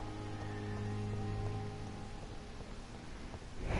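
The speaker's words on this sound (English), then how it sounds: "Take a jog in the rain." Steady rain falling in the video game Vampyr, a dense continuous patter with a faint low hum underneath, even and moderately loud with no talking.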